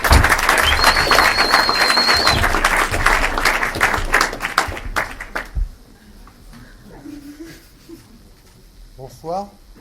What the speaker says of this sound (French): Mesdames et messieurs, faites vraiment un tsunami d'applaudissements pour Didier.